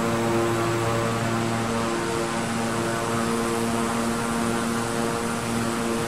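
A Beechcraft 350i King Air's turboprop engines drone steadily in Microsoft Flight Simulator, a loud, continuous propeller hum with a layered tonal whine that holds through the whole stretch without speech.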